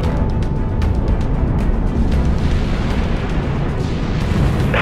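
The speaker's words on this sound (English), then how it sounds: "Hostile artillery cruiser is going down." A hostile artillery cruiser blows up in the naval combat game Dreadnought: a loud, sustained rumbling explosion with scattered pops and bursts rolls on for about five seconds.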